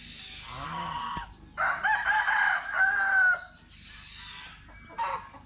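Several chickens cluck and a rooster crows in a farmyard, a loud burst of crowing in the middle between quieter clucking, with no talk.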